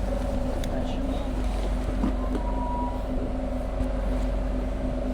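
A boat engine idles with a steady low hum and tonal drone, then eases into forward gear on open ocean water, with faint wind and a brief voice in the background.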